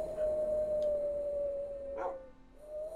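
A person imitates howling wind with the voice during a Minecraft session: one long, steady, moaning wail held for about three seconds at a constant pitch, fairly close and unbroken.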